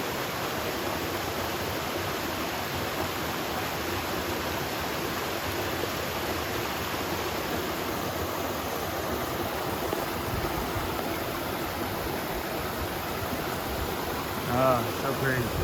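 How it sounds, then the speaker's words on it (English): A small lower waterfall on a mountain stream along Vermont's Long Trail gives a steady, close rushing wash of falling water that stays even and unbroken throughout. "This is a lower waterfall."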